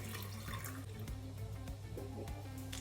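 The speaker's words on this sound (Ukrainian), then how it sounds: "І ми це все заливаємо водою з сіллю." Salted water pours over tomatoes in a jar, making a continuous soft gurgle of filling liquid with a few light splashes, close but fairly quiet.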